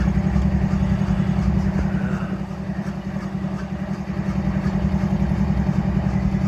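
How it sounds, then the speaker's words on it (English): Four coupled train locomotives powering up before departure produce a loud, steady low diesel drone with a faint clattering texture, dipping slightly in the middle before swelling back, with no talking. "Sounds like they're powering her up,"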